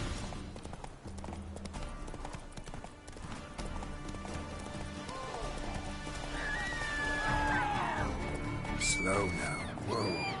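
A horse gallops in the Witcher 3 video game, its rhythmic hoofbeats running under continuous game music, with a whinny and other game effects rising toward the end.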